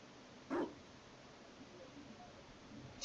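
A mabari war dog in Dragon Age Inquisition lets out a single short, loud bark, with only quiet game ambience before and after.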